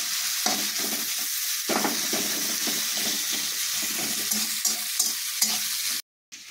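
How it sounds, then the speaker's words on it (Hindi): Onions fry in a pan for crab masala while being stirred, a dense close sizzle with soft scraping strokes throughout, then a brief cut to silence near the end. "एबे भलो भाबरे ताकू टिके भाजी देबा। प्याज टी केमती कलर चेंज हे जिवो।"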